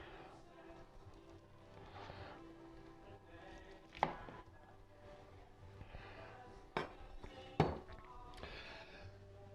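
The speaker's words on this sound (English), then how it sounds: "I'm just going to take one of these out and get it on the cutting board, and then we're going to slice that up" An air-fried cordon bleu is sliced on a cutting board: a few sharp knife knocks against the board stand out over a low, steady kitchen background.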